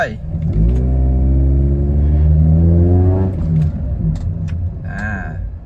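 A motorcycle engine is put into gear and accelerates away, its close, loud note climbing steadily in pitch for a few seconds before easing off and settling.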